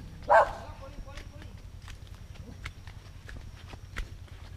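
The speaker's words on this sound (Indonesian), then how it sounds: "Gonggongin anjing, kaget" A dog on a forest path in Bali lets out one sharp, loud bark at close range near the start, followed by soft footsteps and quiet outdoor ambience.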